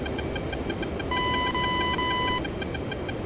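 In Digital Combat Simulator, an F-15C cockpit radar lock warning sounds as a steady high electronic tone lasting just over a second, over a running engine drone and faint repeating beeps.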